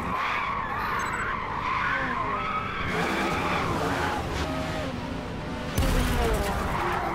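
Tires squeal as a car skids around a NASCAR-style track in the racing game Forza Motorsport, with engine noise underneath and a sudden harsher burst near the end that suggests a crash.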